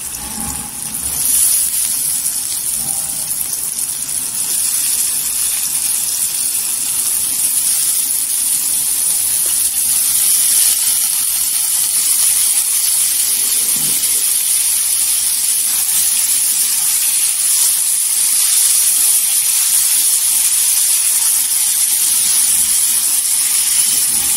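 Potatoes frying in oil over tomato for potato curry, giving a continuous loud steady hiss and sizzle at close range with no letup.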